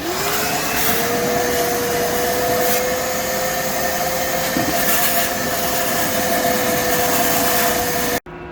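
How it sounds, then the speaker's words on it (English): A wet vac runs steadily during a plumbing job, a loud continuous whine and rushing hum that holds its pitch for several seconds before cutting off abruptly at the end. "we've got it at a good rate where it's just filling up just quick enough where we can keep emptying the wet vac"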